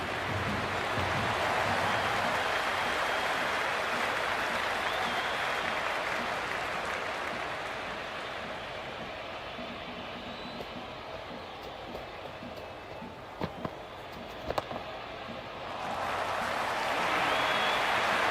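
Cricket stadium crowd at an IPL match applauding and cheering, a broad roaring wash of clapping that dips to a softer murmur midway with a few sharp claps, then swells again near the end.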